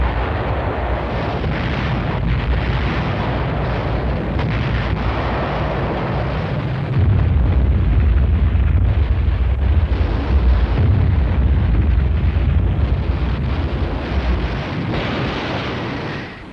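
Rocket launchers firing rockets in combat on Iwo Jima during World War II make a loud, continuous roaring rumble that swells midway and stays dense and close, with no speech.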